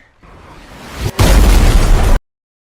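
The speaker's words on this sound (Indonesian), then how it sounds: "bom dari NATO langsung menghantam rumah sakit tersebut" A bomb blast strikes a hospital in a war film, starting with a low rumbling buildup that cuts briefly before a loud, broad, roaring detonation that holds for about a second and then stops abruptly.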